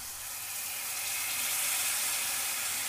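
Water poured into a hot pan while making tapioca pearls for bubble tea gives a bright hissing sizzle that swells and holds steady for a few seconds, with no voices.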